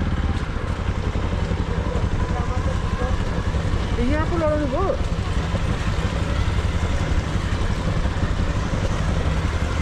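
A motorcycle engine drones steadily and close on a rough rural village road in Tehrathum, Nepal, a continuous low rumble running beneath a man's conversation throughout.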